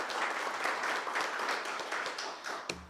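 A round of applause at a grand opening event, steady crowd clapping throughout that fades a little near the end, with a brief knock or thump just before it stops.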